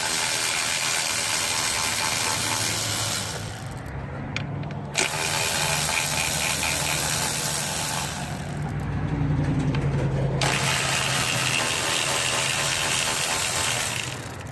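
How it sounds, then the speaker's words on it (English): A loud, continuous mechanical whirring ratchet works on the throttle body spacer bolts of a 2001 Lexus IS300 with a 2JZ-GE engine, running close up in long stretches broken by a few short pauses. "So we're going to take off that throttle body spacer now."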